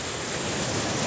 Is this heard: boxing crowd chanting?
no